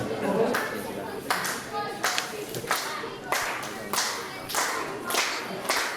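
A wrestling crowd at an independent show claps in a steady rhythmic beat, roughly one clap burst every second, fairly loud and close, with some commentator talk mixed underneath.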